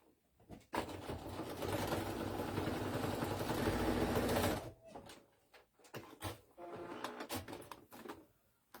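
Sewing machine stitching a breastfeeding bra, a steady mechanical whir running about four seconds close up, followed by quieter clicks and fabric handling noises.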